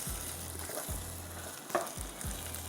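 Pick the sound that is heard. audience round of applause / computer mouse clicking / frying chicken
frying chicken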